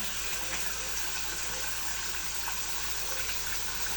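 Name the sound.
washing dishes with running water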